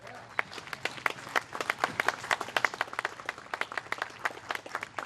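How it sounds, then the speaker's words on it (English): Applause from a small audience at a mayor's honoring of the Greenhills, Ohio police department, with individual hand claps sharp and distinct, steady for about five seconds. "round of applause for the police department"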